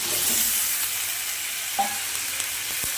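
Duck egg frying in a pan with cauliflower and potato, a steady broadband hiss of oil with a few light scrapes of a stirring utensil, close and moderately loud, no talking.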